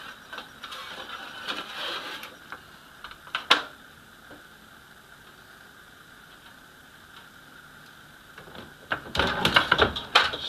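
A plastic parts bin has its seam cut off with a blade, heard as scraping, rasping bursts at the start, a sharp snap midway, and a louder, rougher stretch of cutting at the end, with quiet pauses in between.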